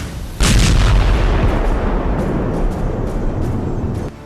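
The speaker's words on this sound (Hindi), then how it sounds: "देखिए एक टेस्ट के दौरान जब इसके धमाके को रिकॉर्ड किया गया" A rocket warhead explodes during a test: a sudden loud blast erupts and then rolls on as a heavy, sustained rumble with crackling debris noise for several seconds before cutting off.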